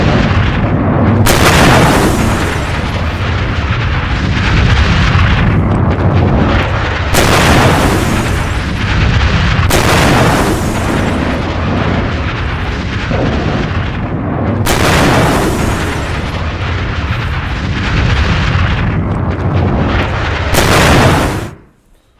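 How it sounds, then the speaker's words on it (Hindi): Loud explosions boom again and again, roughly every few seconds, each heavy blast rolling into rumbling debris noise before the next one hits, from a Hezbollah rocket attack on Israel. "उस हमले के बाद देखिए जरा धमाके"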